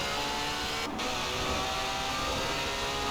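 Race car engine in Forza Horizon 4 holding a loud, dense, steady roar with a brief dip near the start, no voices.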